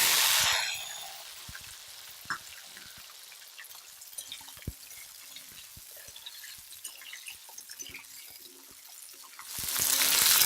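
Shallots fry in hot sesame oil with fenugreek seeds for a tamarind curry, giving a loud hissing sizzle at the start and end with faint crackles and pops in the quieter stretch between.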